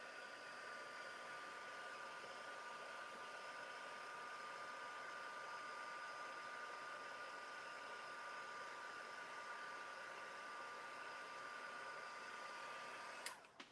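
A heat tool warms the end of a craft stick at a mixed media crafting session, giving a steady, even blowing hiss that holds for over thirteen seconds at moderate level before a brief click near the end.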